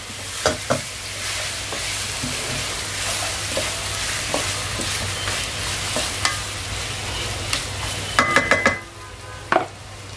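Egg and chicken with ginger and garlic sizzling in a pan for chicken biryani, a constant frying hiss punctuated by scraping stirs and a few metallic clinks, no talking.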